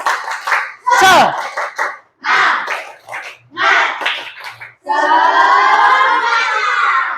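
A classroom group doing a rhythmic clapping chant, short bursts of claps and shouted voices, then a sustained stretch of children's voices together, loud and close.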